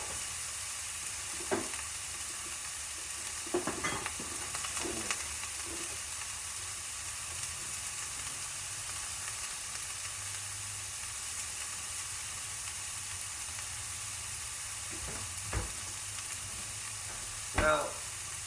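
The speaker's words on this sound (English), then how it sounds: "you're going to start seeing some good color on your garlic, and kind of move it around a little bit" Garlic frying in a pan, a steady low sizzle running throughout, with a few brief scraping stirs and clinks scattered across it, no talking.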